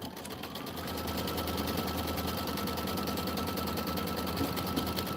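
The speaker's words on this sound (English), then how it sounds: "So I'm going to do the placement stitch for this" A sewing machine runs a placement stitch for a quilted snowman pillow block, a close, steady rapid needle rattle that starts at once and keeps going without a break.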